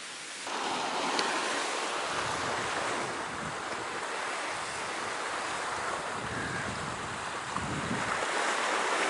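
Sea waves wash steadily at an old disused jetty beside a small white-sand beach near a shipyard, making a continuous loud roar of surf with wind buffeting the microphone.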